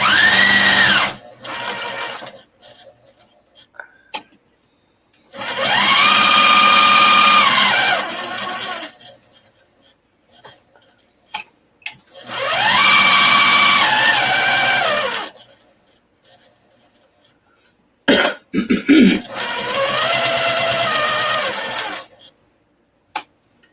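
A sewing machine top-stitches a fabric shopping bag in three long whirring runs, each rising and falling in pitch, separated by quiet pauses with small handling clicks and one short burst near the end.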